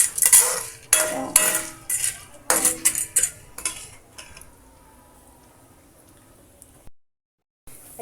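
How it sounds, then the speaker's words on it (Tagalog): Kernels start popping in a hot pot, giving sharp metallic knocks and rattles in quick bursts for the first few seconds before they fade to near silence. "Ayan, nagsisimula na siya mag-pop, kaya tatakpan na natin."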